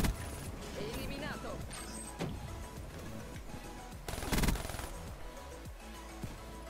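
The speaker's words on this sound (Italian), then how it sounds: "quando spari così, senza mirare, è un po' imprecisa la raffica" Quiet, imprecise burst fire from the Dredge weapon in Call of Duty: Black Ops 3 is fired without aiming, with a short, sharper volley in the middle over busy game noise.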